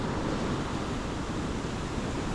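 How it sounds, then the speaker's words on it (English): Big ocean waves at a fishing pier surge in a continuous, loud wash of broadband roar, steady and close with no distinct breaks or voices. "All these big waves."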